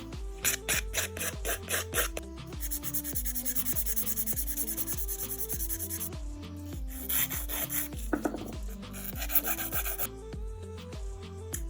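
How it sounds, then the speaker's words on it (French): A nail file rasps rhythmically across a heavily bitten fingernail, close and clear, in quick repeated back-and-forth strokes with brief pauses. "Et une fois que j'ai fini de limer mon ongle"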